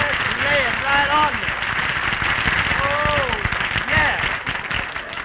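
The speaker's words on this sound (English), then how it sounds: "why do you always have to come in here and ask the audience to applaud?" Studio audience applause on a comedy radio show, a dense patter of clapping that continues throughout while voices talk over it.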